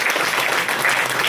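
An audience at a Lions Club installation event claps loudly and densely, a short, sustained burst of applause heard up close.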